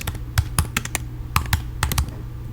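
Keystrokes on a computer keyboard come in short irregular bursts of close, crisp clicks, alone with no talking.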